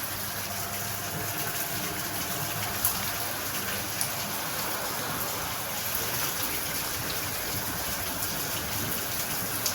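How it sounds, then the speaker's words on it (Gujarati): A heavy downpour of rain, with water pouring down from above, makes a dense, steady hiss that stays constant and close throughout, with no one speaking. "ધોધમાર વરસાદ આવે છે"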